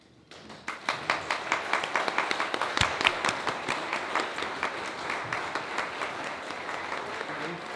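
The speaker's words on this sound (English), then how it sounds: "Can you please give a round of applause?" An audience at a community awards ceremony applauds an award recipient, starting with a few scattered claps that grow into steady, moderately loud clapping with distinct individual hand strikes.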